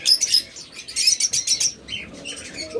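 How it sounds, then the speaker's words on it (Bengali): A pair of cage birds at a bird shop trade bright, rapid chirps close up, bursts of sharp high tweets repeating in quick rhythm with brief pauses and a faint wing flutter. "এখন এক জোড়া পাখি রয়েছে।"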